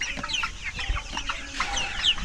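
A flock of Sonali chickens on a small village poultry farm clucks and chatters continuously at close range, several birds overlapping in quick, excited calls.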